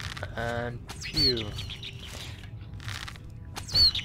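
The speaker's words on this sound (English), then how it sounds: "Sound like birds when they get hit for some reason." Short bird-like chirps and tweets from enemies being hit in The Elder Scrolls IV: Oblivion pop up a few times over a low background rumble, with a brief squeaky call near the start.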